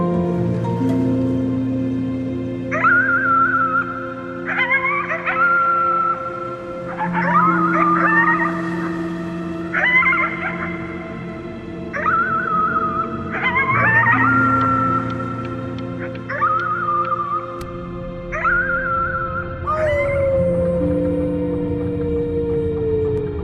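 A voice howling at the moon in the video game Before Your Eyes, imitating an animal howl with a series of rising and falling wails repeated about eight times over a soft sustained musical backdrop.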